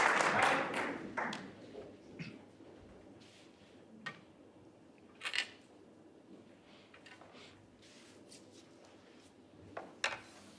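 Snooker crowd at the 2024 World Championship semi-final applauding a break, clapping strongest at the start then fading to scattered claps and taps, distant and moderately loud.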